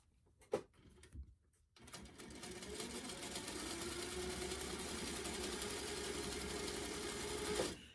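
A sewing machine doing free-motion quilting with a micro foot starts after a few clicks and runs steadily at a fast, even buzzing whir for several seconds, close and loud, before stopping abruptly.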